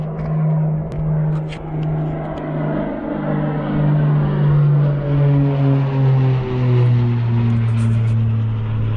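A Baja racer minibike with a Tillotson 212 engine runs at top speed, its loud continuous engine drone climbing steadily in pitch as it gains speed, close and sustained throughout with wind rush.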